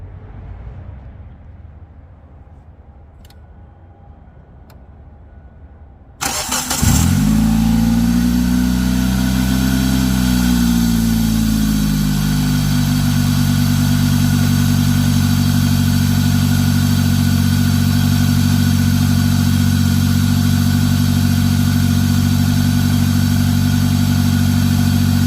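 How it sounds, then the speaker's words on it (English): A car engine starts by remote after a quiet wait, cranking briefly, then settling into a steady, loud, close idle that drones on without break. "I'm going to go ahead and remote start the vehicle"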